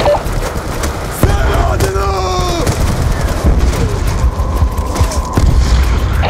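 Enemy tanks in Call of Duty Black Ops 2 shell a base camp, with loud, dense booms and crackling gunfire running continuously and a voice calling out over the battle din.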